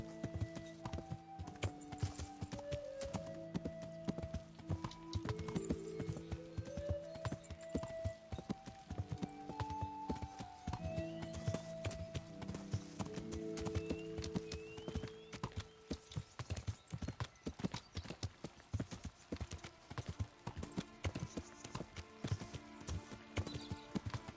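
Horse hooves clip-clop steadily on a road in the video game Kingdom Come: Deliverance, a continuous even trotting rhythm under a melodic game music score.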